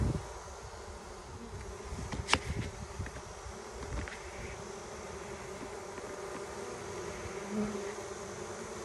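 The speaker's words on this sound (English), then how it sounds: "They're fanning like crazy. So I'm hoping the queen is coming out next." Honeybees fanning at a swarm clustered in a tree give a steady, dense outdoor buzz that holds throughout, close and even, with a few louder individual bees passing near.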